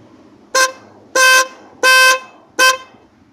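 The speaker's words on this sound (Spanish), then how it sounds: "Para que pase la prueba debe de sonar el claxon" A car horn sounding during a horn test, with four loud, distinct honks, two short and two longer, separated by brief silences.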